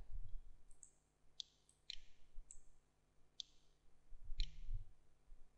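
Computer mouse buttons clicked one at a time, about six sharp close clicks spaced irregularly over several seconds in an otherwise quiet room.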